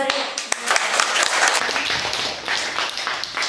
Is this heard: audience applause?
yes